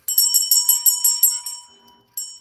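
A small hand bell is shaken in a quick run of bright, ringing strokes, loud and close, then fades, followed by one last ring, rung to close the final auction of a live rock sale.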